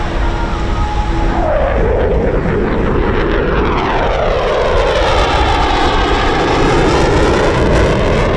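Eurofighter Typhoon FGR4 jet at an RAF Coningsby air display, a loud roaring pass whose pitch sweeps downward as it flies by, leaving a sustained broad rumble and jet roar.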